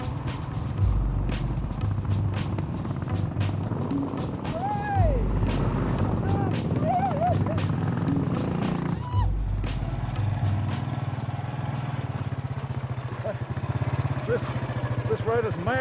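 Motorbikes on a tour of India climb a steep, rough mountain road out of Leh, their engines droning and revving in uneven surges. Someone talks over the engine noise for much of the time.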